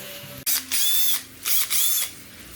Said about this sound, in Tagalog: Babarinahin na natin.